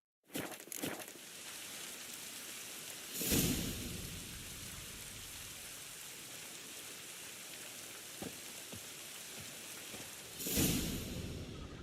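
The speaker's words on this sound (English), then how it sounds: "Rain." Rain falling in the video game The Witcher 3, a faint steady hiss of rainfall with a few sharper bursts, one near the start and another late on, no speech.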